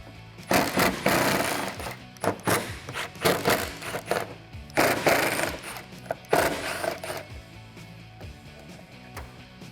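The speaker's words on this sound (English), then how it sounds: "I'm gonna use my impact gun and get those off." Impact gun driving out T15 Torx screws on a 2008-2019 Dodge Challenger rear spoiler, in several loud, rattling bursts of hammering separated by short pauses, close by.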